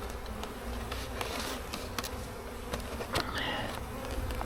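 Bees swarm around an open beehive as its cover is being fitted, a dense steady buzzing close by that carries throughout with a few faint knocks and clicks mixed in.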